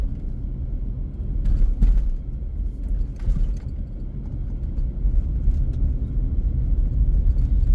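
Old off-road vehicle driving up a paved mountain road in New England, a steady low engine rumble with road noise throughout and a few brief rattling bumps.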